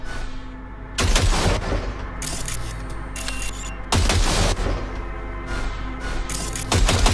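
Gunfire at a target range in the video game Cyberpunk 2077: three loud, dense bursts of shots, each a second or more long, separated by quieter stretches with a steady low background hum.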